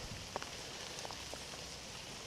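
Rain falling on a lawn, a faint, steady hiss of fine drops with a few soft individual patters, heard alone with no voices.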